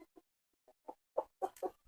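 Native country chickens on a farm clucking in short, soft bursts, several scattered calls growing a little louder toward the end, with no talk.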